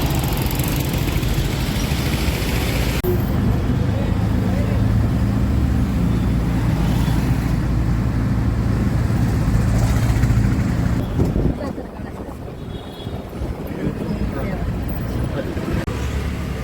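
A two-wheeler carries riders along a road in Satara, its engine droning steadily and loud for most of the ride, easing slightly near the end, with a rider's voice faintly under the noise.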